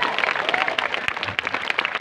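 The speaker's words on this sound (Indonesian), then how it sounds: "Boleh dong tepuk tangan." Audience applause at a school language-month event at a junior high school, a crowd clapping steadily with dense overlapping hand claps over two seconds, fairly close and even.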